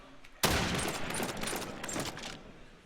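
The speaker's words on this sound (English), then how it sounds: "A couple of nades falling left and right." Grenades explode in a competitive video game match at a playoff tournament, a sudden loud blast followed by a dense burst of crackling gunfire and further bangs, with faint commentary underneath.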